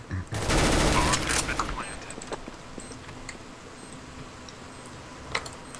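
Rapid automatic gunfire from Counter-Strike: Global Offensive bursts loudly in a sustained volley for about a second and a half, followed by quieter scattered shots and game noise.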